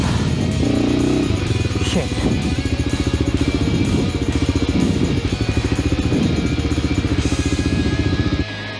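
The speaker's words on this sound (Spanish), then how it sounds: "Llevo aquí como, no sé, 15 o 20 minutos intentando sacar la moto del barro." An off-road motorcycle stuck in mud during rain in Fonz, Huesca, its engine chugging and revving steadily and loudly for several seconds, with some clattering, before cutting off near the end.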